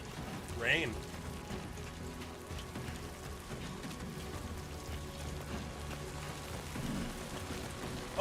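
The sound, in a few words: rain in video game Death Stranding 2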